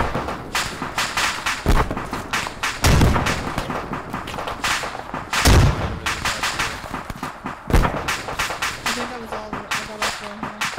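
Gunfire in the military shooter ArmA 3, with repeated sharp shots and heavier thumping blasts bursting irregularly, some near and loud, mixed under people talking.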